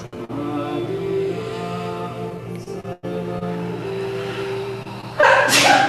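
Near the end of a quiet yoga class, a single sharp, loud sneeze bursts out close by over a soft, sustained musical drone.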